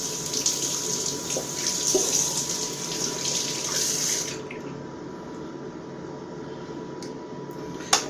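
Shaving brush rinsed under a running tap, a steady close gush of water splashing into a sink for about four seconds, then the flow stops, leaving faint drips and a quiet room with a small knock at the end.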